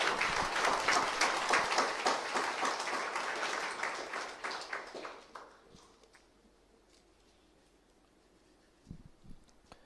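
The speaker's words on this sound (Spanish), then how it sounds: "denle aplauso al Señor" A church congregation clapping during a sermon, a dense round of applause that fades out over about five seconds into near quiet, followed by a few faint scattered claps.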